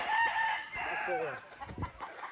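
Golden Boy sweater gamefowl rooster crowing on a farm, one clear drawn-out crow up close, with faint clucks and other birds behind it.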